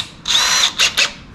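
A power drill bores into the rear wheel arch of a Honda S2000, running as one long whine and then two short bursts, close and loud with no voices.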